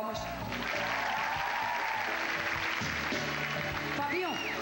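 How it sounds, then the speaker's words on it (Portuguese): A studio audience applauds on a 1998 Brazilian TV variety show, steady clapping that fills the clip under a host talking over it, with music playing alongside. "Obrigado, palmas."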